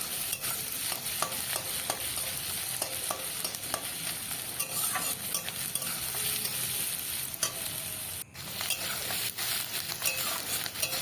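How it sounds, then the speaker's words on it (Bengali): Onion and chopped garlic frying in a pan while being stirred, a steady loud sizzle with scraping utensil strokes throughout, briefly dipping near the end. "তারপরে পেঁয়াজটা নেড়ে চেড়ে রসুন কুচিগুলো দিয়ে দিলাম।"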